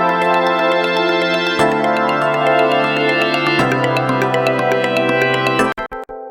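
Layered synth chords in FL Studio, a sustained pad under a rapid arpeggio pattern, shift through several changes, loud and continuous, then end in a few stuttering pulses.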